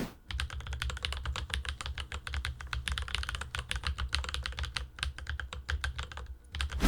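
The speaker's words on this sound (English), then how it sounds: "Your keyboard will be loud, but pleasing to hear." Fast, continuous typing on a mechanical keyboard fitted with heavy Gateron switches, a dense clatter of close, loud keystrokes with brief pauses and no talking.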